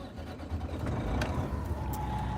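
A 13-speed truck engine runs after starting, a steady low rumble that rises slightly and holds, close and fairly loud, with no talking.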